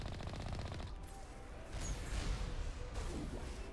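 Rapid bursts of weapon fire and rushing whooshes from rocket troopers in Mass Effect Legendary Edition combat, with sharp crashes and impacts, moderately loud and continuous.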